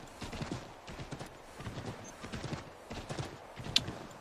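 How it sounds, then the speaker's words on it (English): Horse hooves clip-clop at an irregular walking rhythm over rough frontier ground in the Assassin's Creed 3 video game, fairly close and steady, with a faint whinny-like sound near the end. "This really isn't the terrain for a horse here."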